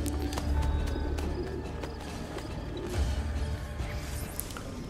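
Pigeons coo at a dovecote in Assassin's Creed Brotherhood, low repeated calls over game ambience with soft mechanical clicks and movement, fairly close and steady throughout.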